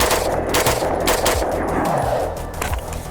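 Rapid rifle shots from a gun fitted with a Franklin Armory binary trigger ring out outdoors, loud and close in quick succession, each crack trailing into echo.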